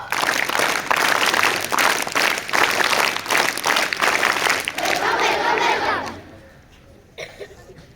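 A crowd of children and guests at a school Children's Day celebration claps and cheers in welcome, loud and steady, then fades away, leaving quiet with a few scattered sounds.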